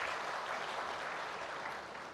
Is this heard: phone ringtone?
no